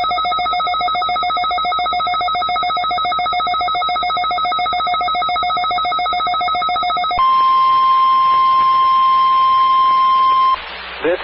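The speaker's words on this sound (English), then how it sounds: "This is a test of the emergency alert system and NOAA weather radio's warning alarm" A loud NOAA weather radio emergency alert warning alarm tone from a required weekly test, a steady piercing electronic tone that shifts to a different steady pitch partway through and cuts off near the end.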